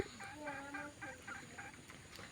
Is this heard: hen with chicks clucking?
yes